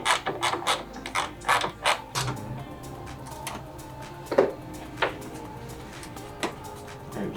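Ratchet tightening bolts on a BMW E46 being prepped for drifting, heard as bursts of quick clicking strokes close by, with irregular pauses and a few sharper metallic knocks, no talking.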